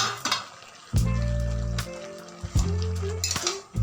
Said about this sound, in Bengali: 10 মিনিট পরে আমি ঢাকা খুলে দেখি